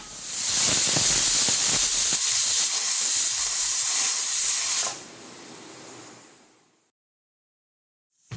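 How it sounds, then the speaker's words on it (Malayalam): Steam hisses loudly and steadily from a pressure cooker nozzle while fenugreek porridge cooks, then drops abruptly to a softer hiss and fades to silence. "ഇനി ഈ നോസിൽ വഴി ആവി വന്നതിന് ശേഷം മാത്രം വെയിറ്റിട്ട് കൊടുക്കുക"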